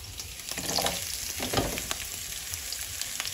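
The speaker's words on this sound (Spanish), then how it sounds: "Voy a rebanar la zanahoria. La voy a agregar acá. La voy a sofreír por un poquito" Sliced carrots sauté in a pan for homemade pickled chiles, a steady close sizzle with bursts of crackle and a few louder spattering moments, no talking.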